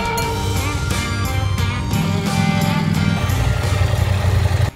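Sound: KTM 890 SMT motorcycle engine riding

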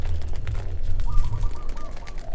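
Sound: caged bird calling

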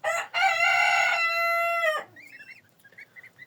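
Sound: roosters crowing

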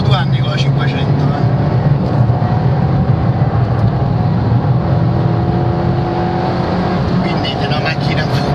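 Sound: Fiat 500 car engine in video game Assetto Corsa

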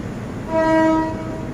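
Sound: train crossing the Chulalongkorn bridge, horn sounding

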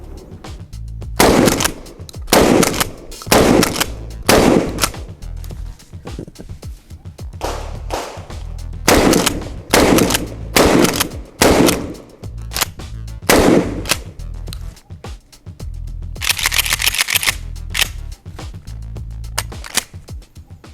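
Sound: shotgun firing with Vector Optics Frenzy-S red dot sight

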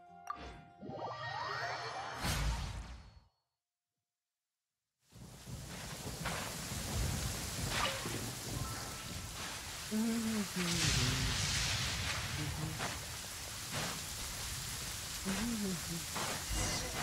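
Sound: rain in a video game

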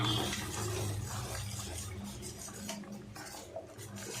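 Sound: stirring masala into oil for chicken gravy

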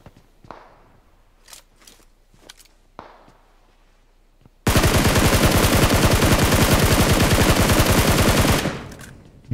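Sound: gunfire in a video game

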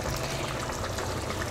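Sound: water being poured into a pot of stewing chicken

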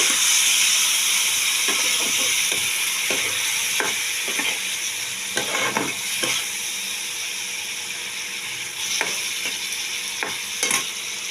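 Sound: tomato and fish sautéing with a little water

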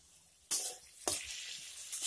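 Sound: eggplant frying and being stirred in a pan

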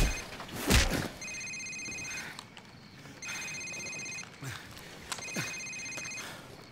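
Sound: cell phone ringing in video game Call of Duty 4

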